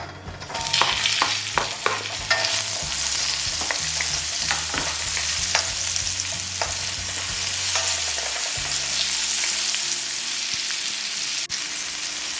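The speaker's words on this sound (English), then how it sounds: "We're gonna use the same pan and saute everything. Okay, we're gonna add the onion." Onion sautéing in a hot pan for a shrimp and snow pea stir fry, a steady loud sizzle with scraping stirring strokes throughout, close up and with no voices.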